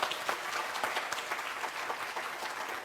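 An audience at a cultural talk and exhibition event claps steadily, a dense patter of many hands at moderate distance, fairly quiet and sustained without voices.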